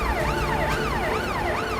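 A fire brigade siren wails in a fast, regular up-and-down sweep, loud and close, repeating steadily with no talking over it.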